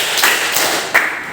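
Two separate, loud group claps ring out less than a second apart during a classroom counting game, each a short sharp burst over a quiet background.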